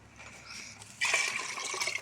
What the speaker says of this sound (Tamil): எவ்வளோ தண்ணி தேவையோ அவ்வளோ தண்ணி ஊற்றிக்கலாம்.